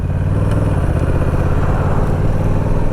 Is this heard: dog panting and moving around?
no